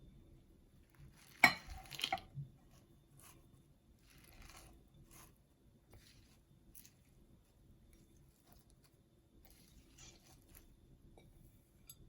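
Spinach going into spiced pakora batter in a bowl gives a brief soft squish and clatter near the start, then only faint, scattered handling noises in an otherwise quiet room.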